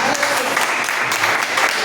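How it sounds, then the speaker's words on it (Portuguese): A church congregation gives a round of applause for the preacher's wife, thick continuous clapping, loud and close throughout the short stretch. "uma salva de palmas pela vida da minha mulher"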